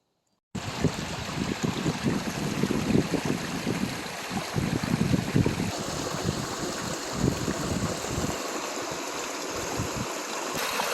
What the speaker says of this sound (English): This is the waterfalls marked on the maps by Jeff. There's your drop there.